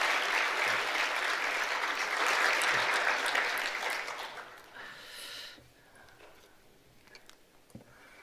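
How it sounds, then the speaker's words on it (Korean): Applause from a church congregation during a Sunday worship service, a dense, steady patter of many hands that holds for about four seconds, then thins out and fades to a quiet room with a few scattered sounds. "자, 박수로 환영하겠습니다."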